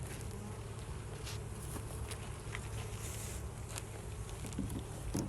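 Honey bees buzzing around an open hive during an inspection, a continuous low hum with faint taps and shuffles, fairly quiet and steady.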